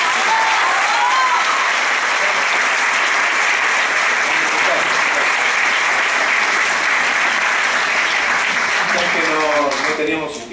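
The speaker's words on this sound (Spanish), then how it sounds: "Fuerte el aplauso." A crowd gives loud, sustained applause that continues steadily throughout with some cheering mixed in, fading slightly at the very end.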